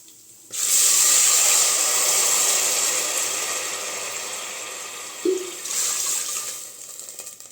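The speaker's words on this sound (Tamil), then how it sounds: "அதுக்கு வந்து ரெண்டு கப் தண்ணி சேர்த்து வேக வச்சு எடுத்துக்கலாம்" Water pours steadily into a pot of soaked moong lentils for cooking, a loud rushing stream that starts abruptly, tapers slightly, then briefly resurges near the end.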